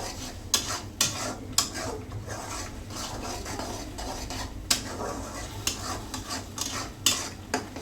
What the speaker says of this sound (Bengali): ভালো করে এটা আমি কষাই দেব